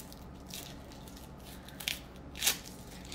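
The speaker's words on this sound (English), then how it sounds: "I'm just peeling the onion here." An onion is peeled by hand: faint crackling papery skin with two sharp crisp tears near the end against a quiet kitchen background.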